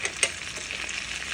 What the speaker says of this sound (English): we're going to start by melting a stick of butter and adding 1/4 cup of minced garlic